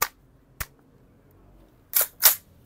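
Airsoft gun with a 50-round magazine being released and handled: one sharp click near the start, another at about half a second, then two louder snappy clacks close together near the end, all close and dry with no talk.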